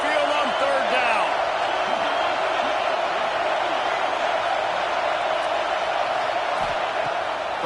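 A football stadium crowd on Saban Field roars with a steady, dense wall of noise on third down, holding constant throughout with no break.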